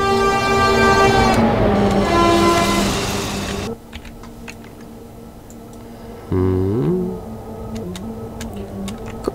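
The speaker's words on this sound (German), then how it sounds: "Guck mal, Papa, da kommt ein Zug." A train passes in the video game Train Simulator 2016: a loud, steady tonal rumble for about four seconds, then a quieter stretch with light clicking and a brief rising tonal burst near the end. No one speaks.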